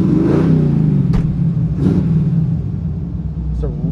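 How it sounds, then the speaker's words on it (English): A 1954 Ford F100 pickup truck's engine runs with a steady, close, deep rumble and a few faint higher whooshes passing over it. "This engine sounds awesome."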